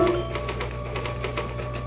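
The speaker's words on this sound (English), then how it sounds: "Can I use the typewriter for a moment?" Rapid clacking keystrokes from a typewriter in a live radio mystery drama, a quick run of sharp taps over a low steady hum, fairly quiet and with no voices.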